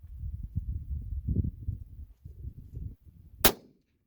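A single sharp rifle shot from a Remington 722 chambered in .222, cracking loudly near the end after several seconds of low, muffled handling thumps and rustling.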